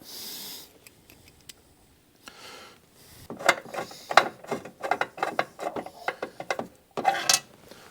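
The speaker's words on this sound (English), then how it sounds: "this is one of those cases where a nice wobble extension comes in handy" A ratchet on a wobble extension backs out screws on a 2014 Arctic Cat Wildcat 4X during a CVT drive belt replacement. A quiet start gives way to rapid, close bursts of ratcheting clicks that repeat in uneven runs.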